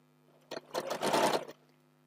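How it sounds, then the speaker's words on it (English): Sewing machine stitching down the opposite edges of a four-patch quilt block, one short close whirring burst of about a second between quiet moments. "I'm going to sew down those two opposite edges"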